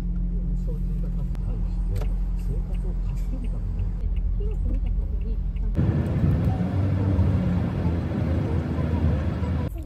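A car on the drive to school hums steadily with engine and road noise from inside the cabin, shifting partway through to a rougher, louder road rumble, with voices faintly audible.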